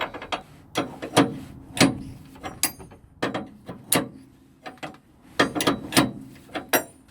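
A ratchet tightens the radius rod bush on a VW T3 van, producing clear close bursts of rapid clicking in rhythmic strokes, pausing briefly between sets of swings.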